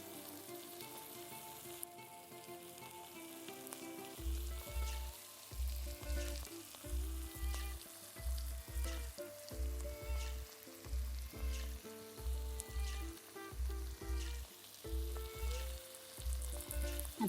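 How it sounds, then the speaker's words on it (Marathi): Masala sizzles steadily in hot oil while being fried until the oil separates, with a regular rhythmic thumping of stirring and a constant crackling hiss throughout. "मसाल्याला थोडेसे तेल सुटून द्यायचे।"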